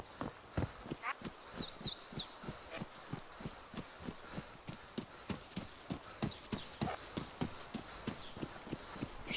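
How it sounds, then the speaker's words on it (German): Steady, rhythmic footsteps from a DayZ character, hard evenly spaced steps repeating through the whole stretch, with a brief bird chirp early on. "Alter, ich höre doch Schritte, Mann."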